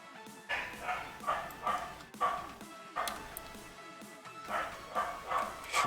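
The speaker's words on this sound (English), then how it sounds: "Some of my neighbor dogs, they are complaining about something." Neighbouring dogs bark in repeated bursts of several woofs and yips, moderately distant, while someone talks intermittently underneath.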